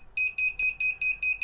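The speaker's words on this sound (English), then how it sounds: "I have a buzzer on mine" Battery-powered buzzer on a hobby drone sounding a rapid run of loud, high electronic beeps in a steady pulsing rhythm, about seven short bursts, close by with no talk.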